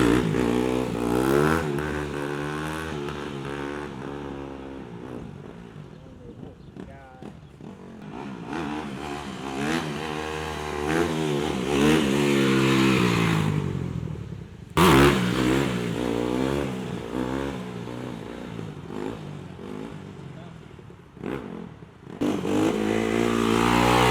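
A 2021 dirt bike engine revs and rises and falls in pitch while being ridden, loud and close, with throttle surges and a sharp cut near the middle before it picks up again.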